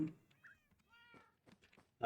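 A cat meows a few times in a Minecraft-style survival game, soft rising calls scattered between quiet sounds, with someone talking faintly in the background.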